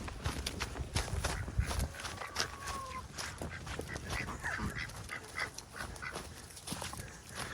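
Loose chickens scurry and cluck while being chased out of their pen, with hurried footsteps crunching close by and a dog active nearby; the activity is busy and continuous throughout.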